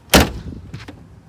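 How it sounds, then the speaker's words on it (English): A Mercedes CLK 430 car door swings shut with a single solid thud, followed by a softer latch click and faint rattle, close by with no one talking. "So now when I close the door,"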